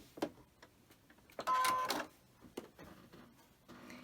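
A sewing machine runs a single short burst of stitching along a quarter-inch seam on a quilt, loud against an otherwise quiet room with a few faint ticks and handling sounds around it.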